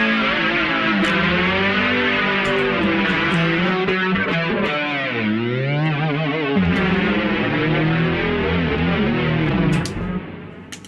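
Electric guitar through a Big Muff fuzz pedal playing sustained, saturated chords, loud and thick with fuzz, fading out at the very end.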